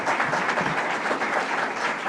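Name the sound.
audience applause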